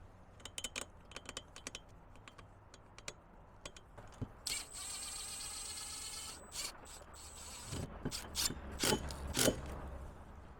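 Screws driven in to remount a loose RV ladder, with scattered clicks and handling knocks leading into a sustained whirring drive of a few seconds, then a cluster of louder clunks and taps as the screw seats.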